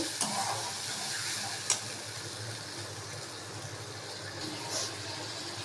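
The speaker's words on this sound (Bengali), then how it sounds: "পোস্ত, কাজু বাদাম, কাঁচা লঙ্কা সব একসঙ্গে বেটে রেখেছি, এটা তেলের উপরে দিয়ে দেব। দিয়ে একটু কষিয়ে নেব।" A ground paste of mustard seed, poppy seed, cashew and green chilli fries in oil for a pomfret fish curry. The sizzle is soft and steady, with a single sharp stirring clink early on and a faint low hum beneath.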